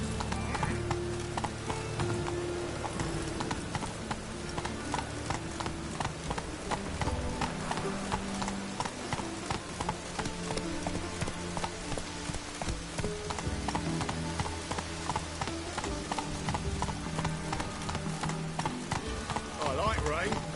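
A horse gallops in The Witcher 3, its hooves clip-clopping in a fast, even rhythm that runs on continuously, with faint background sounds from the game around it.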